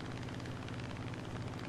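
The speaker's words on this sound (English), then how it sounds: "I can hear the engine slowing down" An F8F-1B Bearcat aircraft engine in the War Thunder video game drones and sputters as it loses power, a steady, loud, low rumble with a rough pulsing texture.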